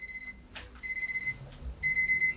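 An alarm clock rings in short electronic bursts, two clear ringing spells separated by a pause, close and fairly loud against a quiet room.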